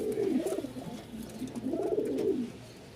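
A pair of white pigeons coo softly at close range, two rolling, throaty coos in a row with no voices present.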